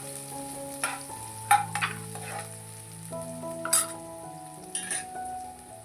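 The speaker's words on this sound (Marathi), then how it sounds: "कांदा छान असा सोनेरी रंगाचा परतून झालेला आहे" Finely chopped onion sautéed in a pan until golden, with a soft background sizzle broken by several sharp clinks and scrapes of a spoon against the pan.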